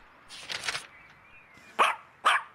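A cartoon dog in an animated children's read-aloud story gives a few loud, close barks: an early cluster, then two sharp separate barks near the end, with no talking.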